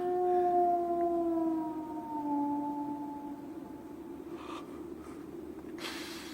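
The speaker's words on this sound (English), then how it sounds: "They say it's the cry of the Hound of the Baskervilles." The Hound of the Baskervilles howling on the moor as a radio-drama effect, one long eerie wail that slides gently downward and fades, followed by faint breathy rustles and a short noisy burst.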